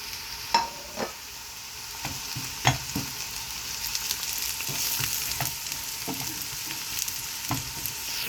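Onion, garlic and green chillies sizzle and fry steadily in a pan, with a spoon stirring and clinking several times against the pan, fairly quiet and close, with no talking.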